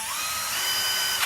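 Battery-powered drill running under trigger speed control, a steady high whine held close and loud, with the pitch rising slightly before a brief burst at the end.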